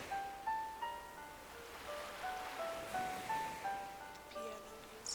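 Ocean waves in a video game wash in as soft, rhythmic swells, quiet and distant beneath a gentle piano melody.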